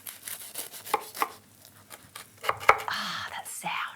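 A crunchy golden tuna melt toastie being sliced in half with a knife, giving crisp crackling crunches and scraping cuts, with soft background noise and faint talk near the end.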